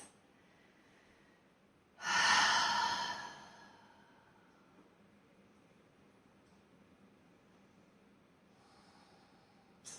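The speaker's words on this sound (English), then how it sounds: "Take a couple of breaths." Someone in a core mobility class takes one deep, audible breath, a loud close exhale or sigh lasting about two seconds, then breathes quietly against faint room hiss, with another soft breath near the end.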